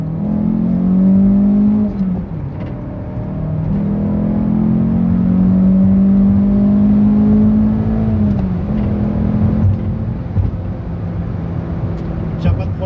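A Citroën Xsara VTS car engine revs up in rising drones, pitch climbing, dipping at a gear change, then climbing again, loud and close.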